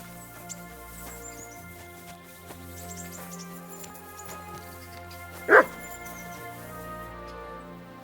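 A dog in the video game Kingdom Come: Deliverance II lets out one short, loud bark over a quiet musical background.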